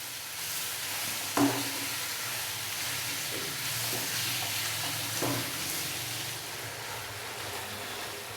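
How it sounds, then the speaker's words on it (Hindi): Chicken fries in a pan for a dry pepper chicken, giving a continuous steady sizzle and hiss with occasional soft knocks of stirring. "अभी हम चिकन को अच्छे से भून लेंगे 5 से 7 मिनट के लिए।"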